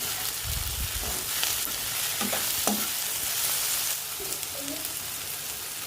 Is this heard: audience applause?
no